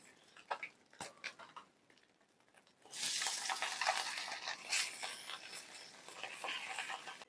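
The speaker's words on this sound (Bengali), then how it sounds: "মাছগুলো ভাজা হয়ে গেছে, এখন প্লেটে নামিয়ে নিচ্ছি।" Small puti fish fry in hot oil, a soft sizzle that swells sharply after a few quiet seconds into a dense crackling hiss with scattered ticks of a spatula, close by.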